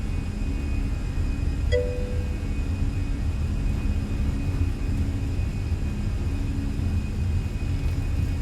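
Airliner engines on a takeoff roll down the runway give a steady, loud, low roar and whine that holds without a break, heard from inside the aircraft.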